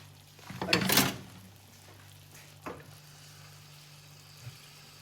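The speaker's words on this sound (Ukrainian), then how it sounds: "Тепер ми залиємо водою." Water poured into a pan of frying carrots and onions with spices for pilaf gives one loud hissing burst near the start, then a single faint clink and a quiet low simmer under a steady hum.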